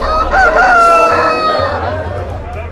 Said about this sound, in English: watching two roosters rip each other to shreds